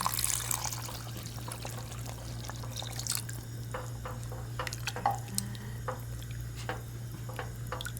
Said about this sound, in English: we will add about 2 cups of water